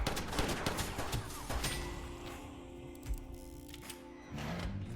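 Gunfire in the video game West of Dead, a quick series of sharp shots early on that thins out into scattered cracks over a sustained mechanical drone, moderately loud.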